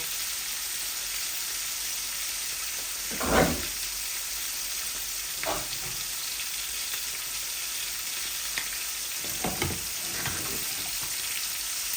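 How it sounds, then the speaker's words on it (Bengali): Steady oil sizzle of fish seasoned with turmeric and salt frying crisp runs throughout, with a few brief louder bursts of spattering and clattering, no voices. "ভালো করে আমি কড়া করে ভাজছি, শুধু হলুদ আর লবণ দিয়েছি তো"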